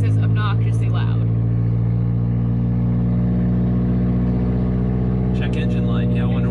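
A loud, droning car exhaust with its catalytic converter stolen rumbles steadily from inside the vehicle, with a voice talking briefly over it at the start and near the end.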